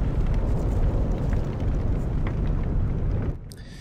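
Lava flowing in Icewind Dale, heard as a loud, steady roaring rumble that fills the space for several seconds before dropping away abruptly near the end.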